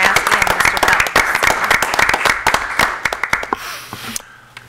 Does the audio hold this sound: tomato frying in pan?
no